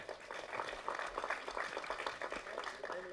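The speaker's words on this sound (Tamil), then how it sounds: "இந்த நேரத்தில் பலத்த கரகோஷம் கொடுங்க" Steady applause from a crowd, moderately distant, lasting a few seconds without pause.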